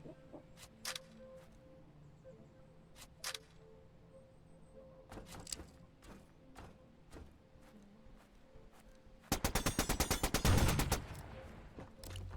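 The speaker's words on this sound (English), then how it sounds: "It's a heavy assault rifle" Heavy assault rifle fire in the game Signal from Tölva: scattered faint clicks and pops first, then one loud, rapid automatic burst of about a second near the end, heard alone.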